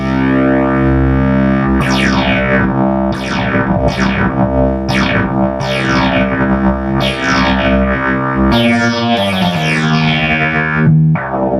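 A buzzy restored Multimoog analog synthesizer in strong mode plays a repeating pattern of notes, each with a sweeping filter, thick and loud with no talking.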